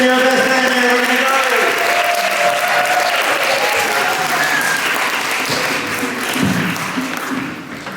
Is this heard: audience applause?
yes